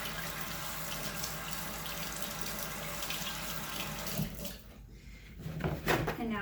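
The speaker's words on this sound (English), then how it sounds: "Let me wash this real quick." Tap water runs steadily into a kitchen sink while something is washed after mixing scone dough, a close rushing flow that cuts off near the end and is followed by some light handling noises.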